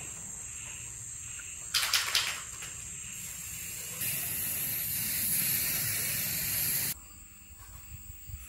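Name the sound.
spray can spraying paint on a festival decoration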